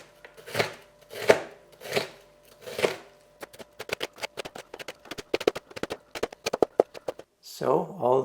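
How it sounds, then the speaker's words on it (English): Knife rapidly chopping bell peppers into small pieces on a cutting board, a few slower strokes first, then a fast, dense run of close, crisp taps. "then you can very easily cut them all into nice small pieces"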